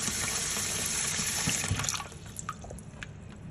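Water runs steadily from a tap to fill an ice bath for cooling boiled eggs, a loud continuous rush that eases off partway and gives way to scattered drips and splashes.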